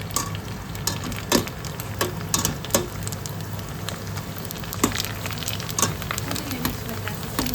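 Golgappa puris frying in oil that has gone slightly cool, a steady crackling sizzle with scattered sharper pops and bubbling bursts, close and continuous throughout with a low background hum.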